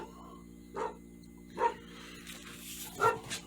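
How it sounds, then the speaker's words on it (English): Dogs barking somewhere nearby during silicone mold brushing work, three separate single barks spaced about a second apart, moderately loud over a quiet humming background. "And we got dogs barking about something."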